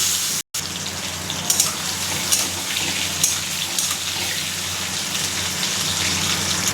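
Potatoes go into hot oil for aloo dum and fry with a loud, steady crackling sizzle that holds nearly unbroken throughout, apart from one brief dropout near the start.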